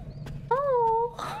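A cat in Tosca Village in the video game Lost Odyssey gives a single short, clear meow that rises and then bends downward. Faint game sounds surround it.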